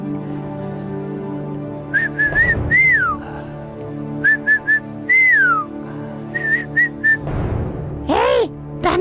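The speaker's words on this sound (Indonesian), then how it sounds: "Jangan lupa, bersiul 3 kali." A person whistles three times in short clusters, sliding tones, close by, over a steady background hum with a couple of louder bursts.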